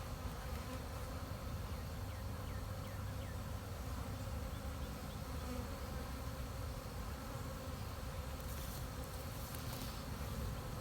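A honey bee swarm buzzes around a hive box outdoors, producing a continuous dense hum of many bees, steady and moderately close with no talk.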